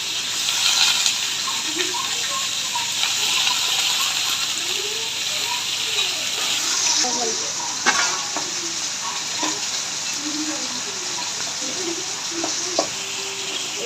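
Steady, loud sizzling of Malabar spinach leaves and pumpkin frying in a hot pan, with occasional clinks of stirring and a faint voice in the background.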